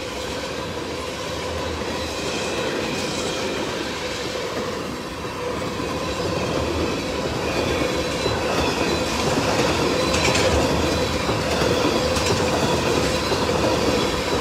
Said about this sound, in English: we're coming up on the rear end of our train now